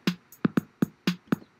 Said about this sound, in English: let's start with the drum machine